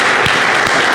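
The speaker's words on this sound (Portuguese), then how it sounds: "O Senhor Jesus merece uma linda salva de palmas" Congregation applauding during a Portuguese-language Holy Communion church service, a dense, loud, continuous wash of clapping hands filling the whole moment.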